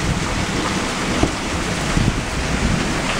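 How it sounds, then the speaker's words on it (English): A hurricane-like wind and rain storm lashes a porch while water pours from a gutter, making a constant roaring wash with gusty buffeting against the microphone. "it's blowing the wind or the rain onto the porch"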